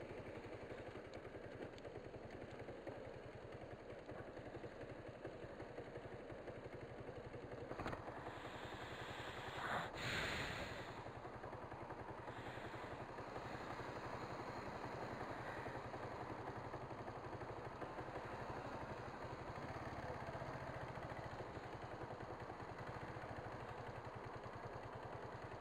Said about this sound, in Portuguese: A moto está esquentando, né?